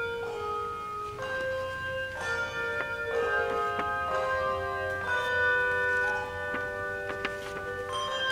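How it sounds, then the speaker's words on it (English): A handbell choir at a Good Friday church service rings out in overlapping, sustained tones, several struck at staggered moments so chords bloom and decay in a gentle, reverberant room. "You're listening to the bell choir."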